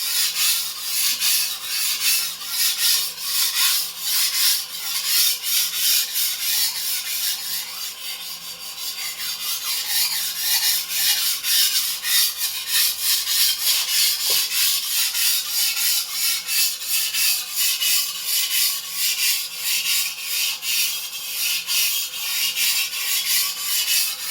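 An antique Dufrense and Co. chef knife is stroked rapidly across a sharpening stone, a continuous close rasping scrape of fast, regular back-and-forth passes, briefly easing midway, with no voices.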